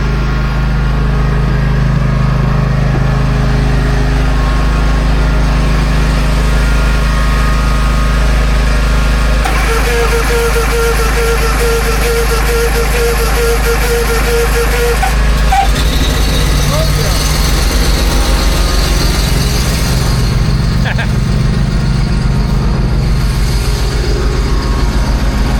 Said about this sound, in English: let's see together if the mower will start.